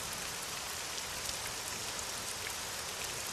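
Steady rain falls without pause, a dense even hiss of drops filling the scene at moderate volume with no voices.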